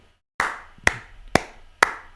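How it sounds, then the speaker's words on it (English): Four sharp, evenly spaced hand claps ring out in a steady beat, close and crisp with short decay, following a moment of near silence. "Okay, so just clap, clap."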